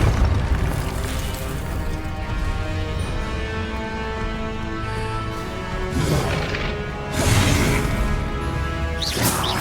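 Magical spell blasts from Confringo and Repulso casts in the Hogwarts Legacy video game, heavy booming bursts and whooshes layered over a continuous game music bed, with a louder crash near the end.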